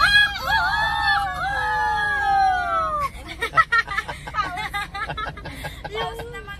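A voice imitates a male chicken crowing with a long, rising and wavering call, then breaks into choppy, excited chatter and babble.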